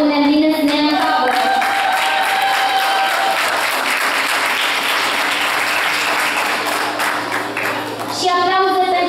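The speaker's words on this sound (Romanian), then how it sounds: "Și aplauze pentru un mare, mare scriitor, domnul Adrian Mărgărit." Audience applause at a folk music festival in Dumbrăvița, a dense, loud wash of clapping that fills the whole stretch, with faint musical tones at the start and end.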